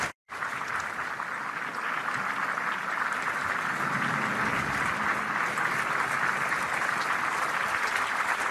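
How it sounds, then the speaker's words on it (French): Sustained applause for healthcare workers and young people of an adapted military service, led by a president at a public ceremony; steady, dense clapping carries on throughout after a brief silent start. "Les applaudissements du président pour les soignants et pour ces jeunes du service militaire adapté."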